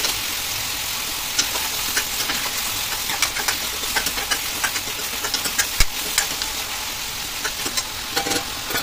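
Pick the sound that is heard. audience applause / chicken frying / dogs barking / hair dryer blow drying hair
chicken frying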